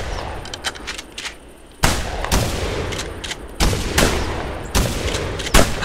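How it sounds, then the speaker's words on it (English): Loud shotgun blasts from the hunting video game theHunter, hunting Canada geese, fire in a rapid series of booming reports, some overlapping, with sharp echoes between shots. "That's a lot of shooting."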